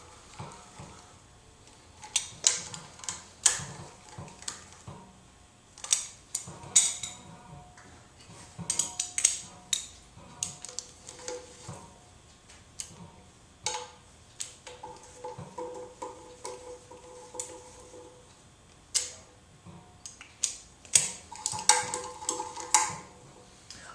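A speeder wrench ratchets bolts on a stamped sheet metal timing cover, giving irregular bursts of sharp, close clicking and ticking with short pauses between runs and no talk.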